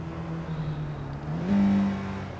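A Honda Jazz accelerates on track at Monza, the engine droning steadily, then rising in pitch with a brief louder surge as it is driven hard through the gears, heard from inside the car.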